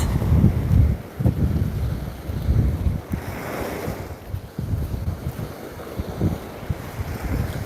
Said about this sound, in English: It got windy when I turned around.